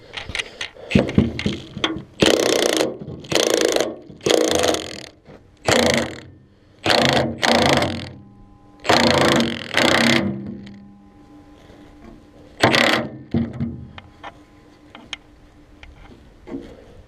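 A hand ratchet cranks in loud, close bursts of rapid clicking while tightening a machine belt, with short pauses between strokes and a few lighter clicks trailing off near the end.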